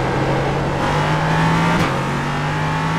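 An LMP3 prototype race car engine drones loudly in a racing video game at Daytona, a sustained close roar with a slight pitch shift partway through as the revs change.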